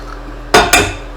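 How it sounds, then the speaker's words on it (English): Two eggs cracked in quick succession against a bowl rim, two sharp cracks, close and crisp, with quiet between and after. "Crack them in a bowl."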